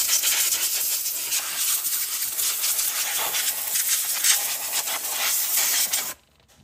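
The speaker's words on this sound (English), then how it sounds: "use the airline to blast away the brake cleaner" A compressed-air airline blasts brake cleaner off a freshly changed fuel filter on an Iseki TH4335 tractor, giving a loud, steady, close hiss that runs unbroken for about six seconds before cutting off abruptly.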